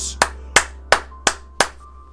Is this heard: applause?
yes